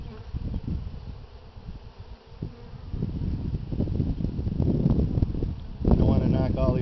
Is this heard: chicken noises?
no